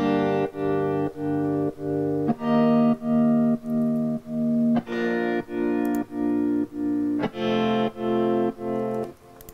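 Real guitar chords, played chord by chord and chopped together, sit in an electronic track with effects and distortion, sounding as a steady rhythmic series of sharp, evenly spaced harmonic stabs with short gaps between them.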